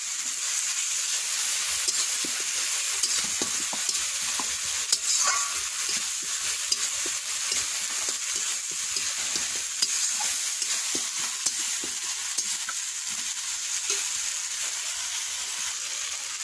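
Spice masala sizzling in hot oil in a pan, a constant bright hiss of frying with soft, continuous stirring scrapes throughout, close and even in level.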